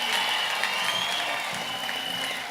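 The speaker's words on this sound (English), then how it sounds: "as we applaud Honorable Samuel Duggins" Sustained applause from an audience at a cabinet swearing-in ceremony for government ministers of St. Kitts and Nevis, steady clapping from a crowd filling the room throughout.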